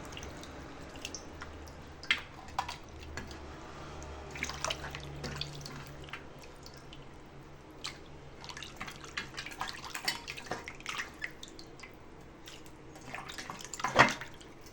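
Goat meat being washed in water, with scattered drips, splashes and sloshing at irregular intervals, mostly faint, plus one sharper splash near the end.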